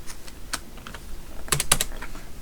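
Computer keyboard keys pressed while working in a graphics program, a handful of quick, close clicks and taps in loose clusters, with no talking.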